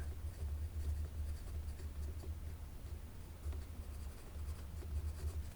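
Pen scratching as a title is written onto a paper score sheet during a Cartographers board game, a quiet, continuous scribbling with soft taps over a low steady hum.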